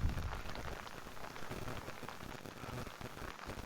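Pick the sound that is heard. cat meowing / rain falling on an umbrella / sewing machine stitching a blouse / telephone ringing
rain falling on an umbrella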